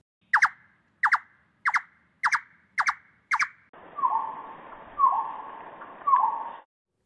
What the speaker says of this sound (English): And for that, we find many examples in the Thrush Nightingale song too.